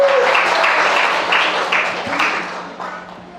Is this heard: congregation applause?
yes